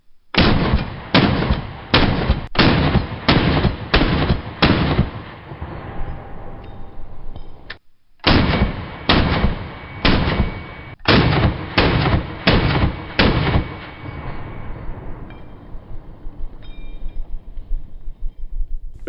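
Shots ring out from SIG SPEAR and FN SCAR H battle rifles, loud, close, heavy reports fired in rapid strings of several rounds, with one brief pause between bursts and a ringing tail fading out at the end.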